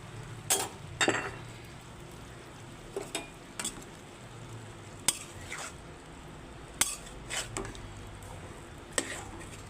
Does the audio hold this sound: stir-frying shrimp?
yes